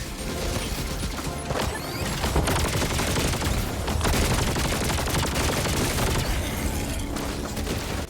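A laser weapon fires in Helldivers 2, sustained rapid shots forming a dense, loud crackling barrage that runs almost unbroken alongside mechanical clatter and booms.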